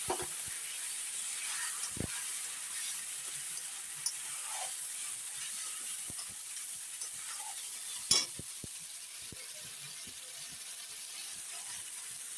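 Quiet, steady sizzle of fried potatoes with green chilli and cumin paste in the pan, with occasional clicks and scrapes of a spoon stirring.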